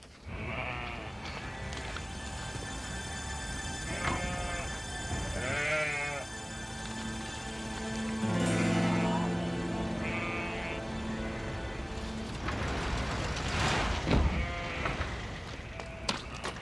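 Sheep bleating across a farm field in a rural setting, several wavering calls spread through the scene, some near and some farther off, with no one speaking.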